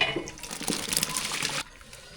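Tamarind water and mango pieces go into a pot of village-style sambar, a splashing liquid pour over about a second and a half that stops abruptly, leaving quiet room noise.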